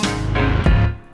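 Marching-style snare pattern from a Studio Drummer Garage Kit, a dense roll of snare strokes layered in a full mix, loud and sustained over about a second.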